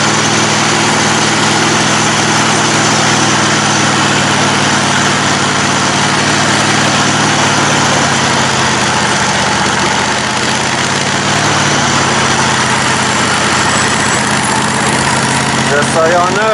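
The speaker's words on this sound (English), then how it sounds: "there's the John Deere that I converted to a mud mower" John Deere riding mower converted into a mud mower, its small engine idling in a loud, steady drone close by that holds without a break from start to finish.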